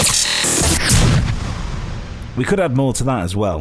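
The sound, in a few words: boom and glitch effects in a video game intro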